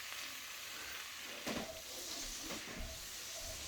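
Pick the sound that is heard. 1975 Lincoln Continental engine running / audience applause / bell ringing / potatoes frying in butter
potatoes frying in butter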